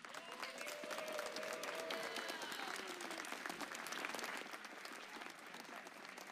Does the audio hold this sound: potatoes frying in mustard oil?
no